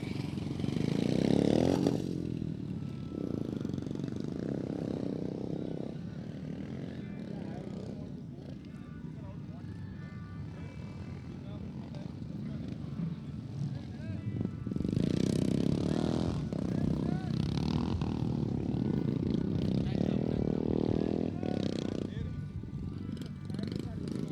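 Dirt track motorcycles, novice 350cc class, running a test lap at a race event, their engines droning loudly and steadily beneath continuous commentary talk.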